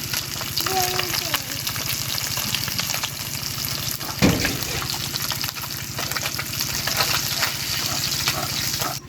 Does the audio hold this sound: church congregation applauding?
no